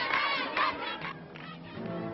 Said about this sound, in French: La foule crie « Nasser, Nasser, Gamal, Gamal, nous voulons la guerre, rendez-vous à Tel Aviv »